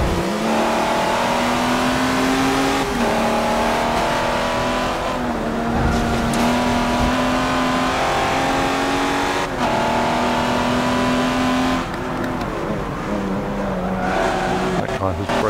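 A race car in an Xbox One X racing game: a loud, continuous engine drone climbing and dropping through gear changes, with someone talking over it.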